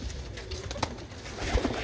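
Pigeons of fine breeds kept in a netted loft coo softly and continuously through a low background murmur, with no talk.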